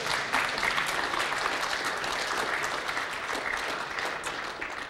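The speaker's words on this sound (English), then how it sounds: "You can applaud if you want" Audience applause at a security conference talk on Bluetooth Low Energy, a dense, even wash of clapping from a sizable crowd that holds steady throughout with no speech.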